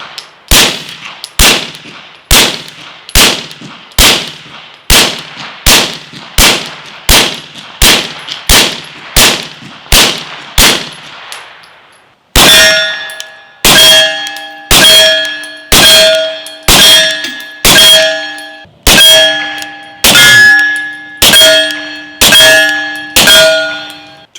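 Pistol shots through a Gemtech GM-9 silencer ring out alone as a rapid string of sharp, loud cracks, each followed by a short metallic ringing, with a brief pause midway before a second quick series.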